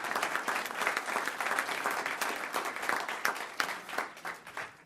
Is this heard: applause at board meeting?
yes